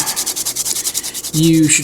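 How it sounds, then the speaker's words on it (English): Steady rhythmic rasping strokes of sanding a small plastic miniature drone part flat, close and repeated, followed by a brief louder whirring tone near the end. "Now when you're sanding these down,"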